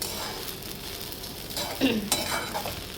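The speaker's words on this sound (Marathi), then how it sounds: "साबुदाण्याला आपण एकदा हलवून घेऊ" Sabudana (sago pearls) stirred as they fry in a pan, with a soft steady sizzle and a few louder scraping strokes of the spoon near the end.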